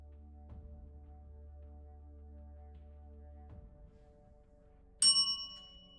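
A single bright bell strike rings out near the end, sharp and loud with a ringing decay, following quiet low hum and a couple of soft knocks.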